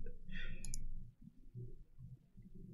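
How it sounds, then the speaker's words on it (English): Playing cards are shuffled at a tables-and-players Legacy Friday Night Magic card game event: a soft, brief burst of riffling clicks sounds over a low, steady room hum. "Looks like shuffling on both tables."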